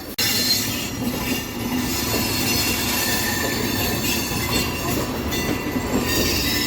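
A MEMU electric passenger train runs along the rails between Visakhapatnam and Palasa, a loud, steady rumble of wheels with rattling carriage noise and faint squeal, heard from on board without talk.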